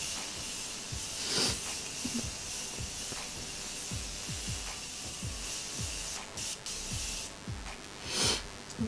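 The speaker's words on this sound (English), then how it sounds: "I'm just going to spray this face one more time" Setting spray misted onto a face after makeup, soft breathy hisses under a faint background, with a couple of brief spray bursts standing out.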